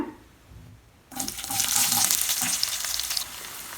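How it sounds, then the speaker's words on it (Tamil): Onions, including small shallot-type onions, sautéing in hot oil with cloves and bay leaf for an egg gravy, a quiet lead-in giving way to a loud, steady sizzle that holds strong to the end. "வெங்காயம் நல்லா பொன்னிறமாக வதங்கிருச்சு."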